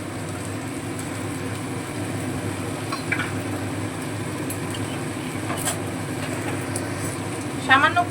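Papaya pieces fry in oil with cumin powder and ginger paste in a pan, a continuous close sizzle with occasional stirring clinks, a voice talking over it throughout.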